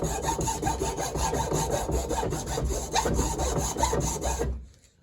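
A Dremel rotary tool or saw cuts steadily through a wooden pinewood derby truck block, giving a loud continuous rasping grind close up that stops abruptly near the end.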